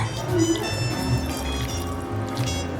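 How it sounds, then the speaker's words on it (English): Starchy pasta water is poured into a pumpkin fettuccine alfredo sauce, a quiet trickling and dripping of liquid under a low background hum. "And a little bit of that pasta water, get that in there too."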